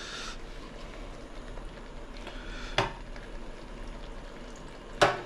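A pot of water for pasta at a rolling boil, a continuous bubbling hiss with soft churning, broken by two sharp clinks of metal cookware, no one speaking.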